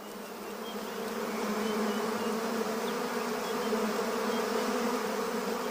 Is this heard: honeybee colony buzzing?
yes